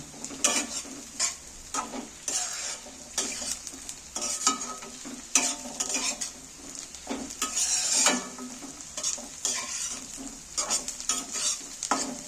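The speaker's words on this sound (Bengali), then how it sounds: "এবার আমি মশলাটাকে পেঁয়াজের সাথে ভালো করে ভেজে নেব" Ground spices fry with onions in a pan for a peanut chicken dish, as a bright hiss of sizzling runs under frequent clattering strokes of a spatula against the metal, uneven and close up.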